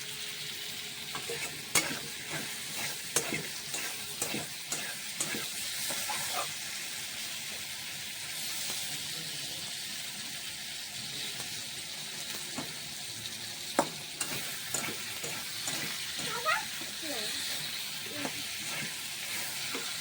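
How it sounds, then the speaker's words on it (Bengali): Potatoes frying in a pan for a vegetarian soya chunk dish give a constant hissing sizzle, broken by repeated scraping stirs and spatula taps over about twenty seconds. "দেখতে পাচ্ছ একটু আলু ফ্রাই হয়ে গেছে"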